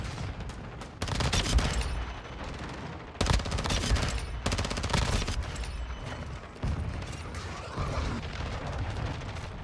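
Rapid automatic gunfire rattles in a shooter video game, dense, loud bursts of shots and booms that run almost continuously with brief gaps.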